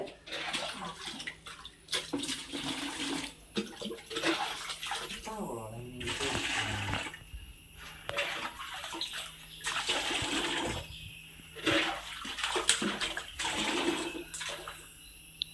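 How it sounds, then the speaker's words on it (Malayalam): Water splashes and pours in repeated bursts while a moss-filled fish pond is cleaned, each gush loud and close, with people talking in between. "ഇതിലേക്ക് എടുത്ത് ഒഴിക്കുക"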